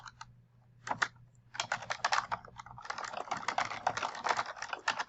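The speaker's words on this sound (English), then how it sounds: "as I'm typing the title out" Typing on a computer keyboard, a short burst of keystrokes followed by a pause, then a dense, steady run of rapid clicks while entering a reference title. The sound is close and clear, with no voices.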